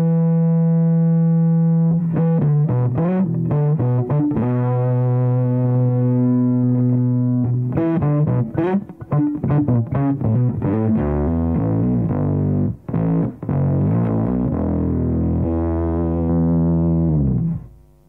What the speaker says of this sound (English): It's a little bit noisy, but it's a distortion pedal